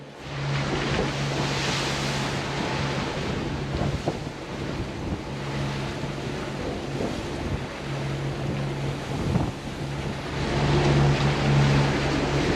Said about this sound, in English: taking a pounding from these waves